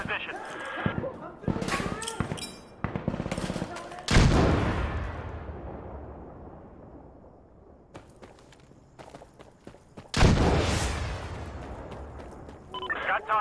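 Gunfire in the video game Insurgency: Sandstorm, sharp loud shots and bursts with echoing tails and a long decaying boom, amid game sounds and radio-style voice chatter.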